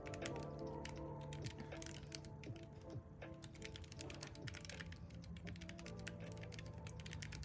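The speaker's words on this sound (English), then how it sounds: "I'll just have a little bit of a type away on the keyboard and you guys can have a bit of a listen to see what it sounds like" Typing on a computer keyboard, a steady rapid stream of close clicky keystrokes over a low background hum, with no talk.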